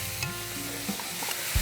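Banana stirred into caramelising sugar in a pan, a close, continuous sizzle with a few spoon scrapes and a soft knock at the end.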